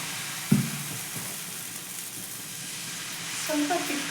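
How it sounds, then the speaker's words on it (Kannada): Onion dosa batter spread on a hot pan with a soft, steady sizzle and hiss after a brief knock, while faint voices come and go in the background. "ಹಾಕ್ ಮತ್ತೀಗ ದೋಸೆ ಹಾಕ್ತೀನಿ"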